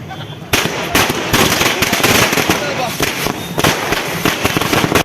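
A rapid string of firecrackers bursts in loud, irregular cracks for several seconds at a celebration, close by, with voices faintly underneath.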